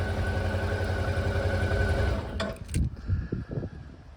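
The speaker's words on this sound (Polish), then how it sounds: "silniczek bardzo ładnie reaguje, chodzi równiutko" A Suzuki DL 650 motorcycle engine from 2017 runs evenly at idle, a steady close hum for about two seconds before it breaks into uneven low thumps and rattles.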